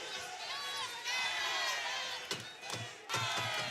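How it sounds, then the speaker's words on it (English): A crowd at a men's championship basketball game in State Farm Center cheers and shouts in a loud, dense roar, with several sharp slams near the end. "These crowds trying to do their part with their cheering."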